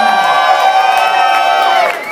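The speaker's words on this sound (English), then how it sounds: "Wonderful round of applause going for our boss here on a Friday night, Miss Minnie Cooper!" A crowd at a Friday night drag show cheers and whoops loudly, with a long sustained shout ringing over the noise, then dropping off near the end.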